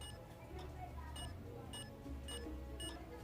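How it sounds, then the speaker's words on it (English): A toaster beeping in a WandaVision sound effect, a series of short high beeps that come quicker as the clip goes on, heard faintly over a low background hum. "notice how that beeping speeds up"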